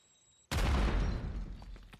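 A grenade blast in Call of Duty: Modern Warfare III bursts suddenly out of near silence, a heavy boom with a rumbling, crackling tail that slowly decays.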